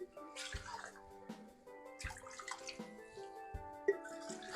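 Soup stock drains through a strainer in uneven pours and drips, with liquid trickling into a vessel and splashing faintly in several bursts.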